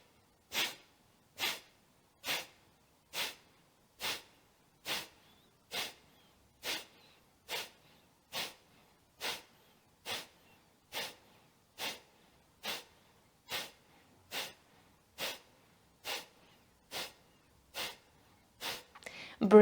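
Rapid rhythmic breathing for clearing a stuffy nose, about twenty sharp, forceful exhalations through the nose at an even pace of roughly one per second, close and alone.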